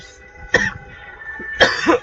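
Two sharp coughs from a man, one early and one near the end, close and dry with a quiet pause between them.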